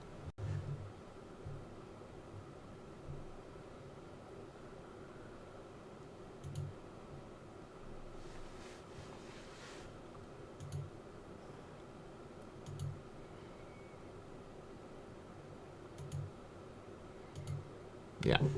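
Repeated soft clicks at a steady, spaced rhythm over constant low background noise indoors, each click brief and faint, with a louder burst near the end.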